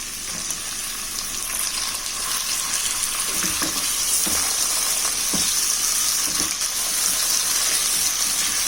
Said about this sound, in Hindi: अब मैं इसमें चिकन के पीसेस डाल देती हूँ।